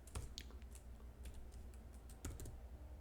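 Computer keyboard arrow keys are tapped in quiet, scattered clicks, a handful of separate presses with short pauses between them, close by and with no talk.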